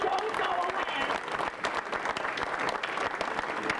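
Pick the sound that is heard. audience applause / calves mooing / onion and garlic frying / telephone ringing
audience applause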